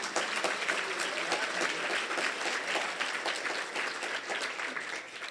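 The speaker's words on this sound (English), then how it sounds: "Yeah, you can stop and clap for that." An audience at a State of Education address applauds steadily, a full, even burst of many hands clapping that holds for over five seconds and tapers slightly at the end.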